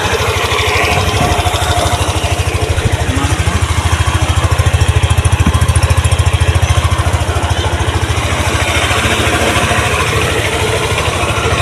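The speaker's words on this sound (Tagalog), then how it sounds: "gumana na yung motor niya, nagbukas na yung muna at nakaandar na" Yamaha motorcycle with a keyless ignition system, its engine running at a steady idle throughout, a continuous low rumble close by with no talking.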